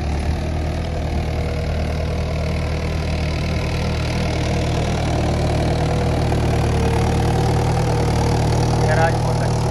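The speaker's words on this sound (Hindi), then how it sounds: "बिल्कुल लोड नहीं पड़ रहा ट्रैक्टर में," A tractor engine runs steadily with no load while driving an irrigation pump in a field at night, a continuous low rumbling drone without breaks.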